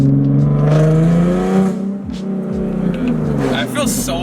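A BMW with a very loud aftermarket exhaust revs hard, its deep droning roar rising and falling up close while people talk over it.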